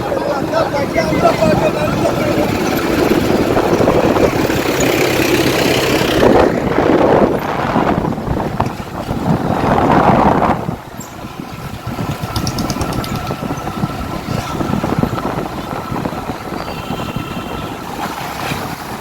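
A tractor engine runs steadily at a busy religious fair, a continuous loud rumble under crowd chatter and nearby voices, dipping slightly in level partway through.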